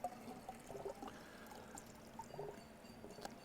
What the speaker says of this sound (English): So I'm going to pour this liquid in here.